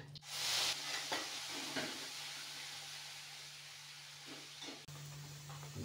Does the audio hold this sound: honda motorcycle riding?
no